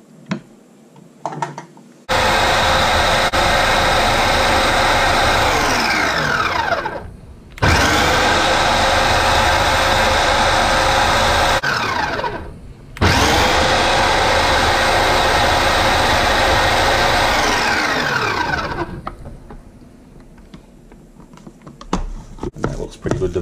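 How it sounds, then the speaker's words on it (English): Food processor chopping a fig and pistachio stuffing mixture in three long, loud whirring bursts separated by short pauses, with quieter handling noise at the start and end. "this mix like a few pulses. I don't care if it's not totally sort of blended up, there's like still chunks of fig in it"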